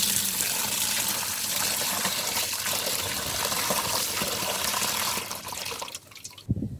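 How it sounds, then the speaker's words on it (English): Fresh water gushes steadily over a sawfish being prepared for Jamaican seafood stewed peas, a continuous loud pour and splash that thins out and stops near the end. "I'm going to put some fresh water on this"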